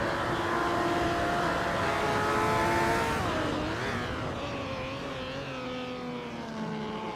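A 1954 Mercedes-Benz 300 SL racing car engine in a racing video game, roaring loud and steady at high revs, then falling in pitch as it eases off, with no voices.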